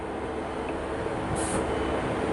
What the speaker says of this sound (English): here comes an East Midlands train service to Liverpool Lime Street